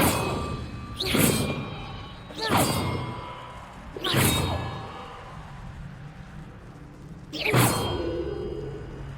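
Four bells rung one at a time in Hogwarts Legacy, each a loud struck tone that rings out and fades, spaced a second or two apart with a gap before the last one.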